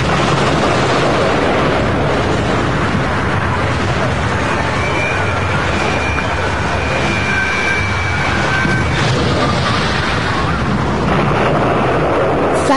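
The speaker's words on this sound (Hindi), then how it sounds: "फैटमैन में विस्फोट हुआ।" The Fat Man atomic bomb explodes over Nagasaki as a loud, sustained roaring rumble with a dense, noisy blast that fills all thirteen seconds without letting up.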